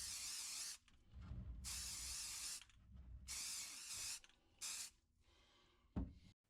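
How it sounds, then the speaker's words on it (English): Primer sprayed from a can onto the feed water tank of a small steam test plant, several bursts of steady hissing, each about a second long, with short pauses between them and a faint knock near the end. "This clip shows the feed water tank getting a coat of primer."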